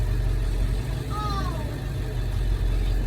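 A large American Winnebago motorhome pulling into a garage, its engine a steady low rumble at close range beneath a speaking voice.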